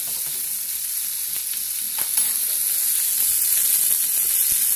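A tomato fries in a pan beside other small vegetables for a vegetarian plate, a continuous bright sizzle with soft clicks and taps of turning it over, close up and steady with no voices.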